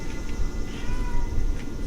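A cat meows a few times at close range, fairly clear over a steady low background rumble, with no talking.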